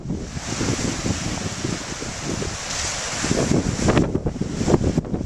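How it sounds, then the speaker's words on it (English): Surf churns and rolls onto a stony beach below a cliff, steady wash mixed with gusty wind buffeting the microphone. "all the waves here, the stones and stuff."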